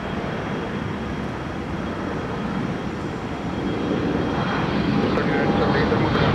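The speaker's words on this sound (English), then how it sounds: "Jungle Jet now on the move to Chicago O'Hare" A jet airliner taxis at Minneapolis–St. Paul Airport, its engines giving a loud, steady roar that swells slightly toward the end, with no other distinct sounds standing out.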